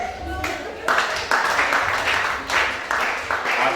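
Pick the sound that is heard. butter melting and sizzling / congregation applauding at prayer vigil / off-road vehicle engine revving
congregation applauding at prayer vigil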